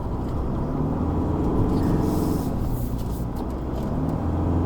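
A 2021 Isuzu D-Max X-Terrain pickup truck is driven through corners on a hill road at Genting. A steady, loud cabin rumble of engine and road noise continues throughout with no talking.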